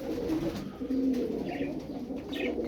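Pet pigeons cooing nearby in low, rolling murmurs that run steadily over a constant background hum, with a few faint higher chirps mixed in.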